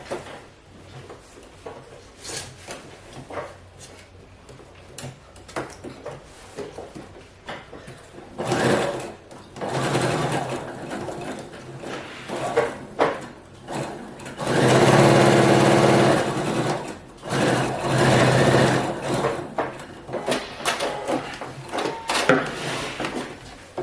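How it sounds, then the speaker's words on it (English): A sewing machine stitching along the interfacing of a sleeveless blazer, its motor whirring in short runs that build to longer, louder stretches of rapid stitching, with quiet handling pauses between. "You just sew along the interfacing."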